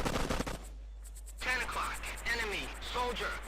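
A short, loud burst of rapid gunfire in the Arma video game while firing at a BMP armored vehicle, followed by people talking.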